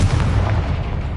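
A Confringo fire spell blasting in Hogwarts Legacy gives a single deep, booming burst with a low rumble that fades out across about a second, loud and close, with no voices.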